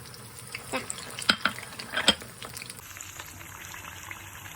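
Homemade Thai stuffed fish cakes frying in a pan of oil, giving a soft steady sizzle with a few louder crackles and pops in the first half, heard close up with no talking.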